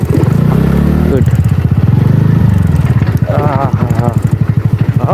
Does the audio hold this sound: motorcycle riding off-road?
yes